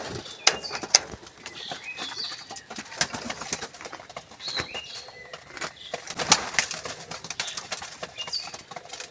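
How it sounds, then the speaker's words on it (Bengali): Pigeons in a loft peck at wheat and water, with repeated close wing flaps and soft coos mixed through a busy, steady stream of clicks and rustles. "দেখতে পাচ্ছ সব পায়রা খাচ্ছে।"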